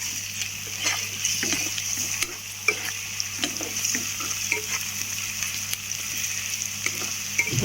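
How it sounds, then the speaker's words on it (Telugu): Ginger garlic paste frying in hot oil for a drumstick, brinjal and potato curry, a loud continuous sizzle with frequent stirring scrapes and a low steady hum underneath. "అల్లం వెల్లుల్లి పేస్ట్ కదా నూనెలో బాగా వేగాలి"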